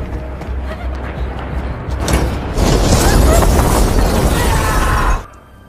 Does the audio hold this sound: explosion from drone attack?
yes